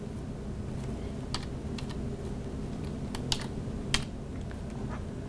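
Quick bursts of keystrokes on a computer keyboard while entering an equation in Word, close and fairly soft, with irregular clicks and a few sharper taps over a steady background hiss; no voices.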